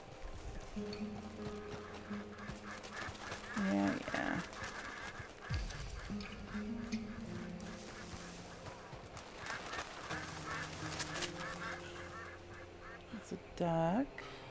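Ducks in Red Dead Redemption 2, a domestic Pekin or mallard, quacking and honking in short bursts over outdoor game ambience, with someone talking at times.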